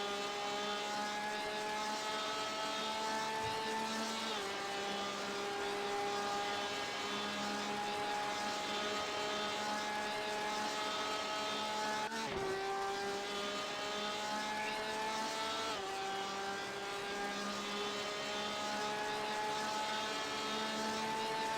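Several race car engines from a racing video game, including a Porsche, drone steadily and loudly throughout, with shifting harmonic whines as they rev and change gear, and a brief dip and surge in pitch midway.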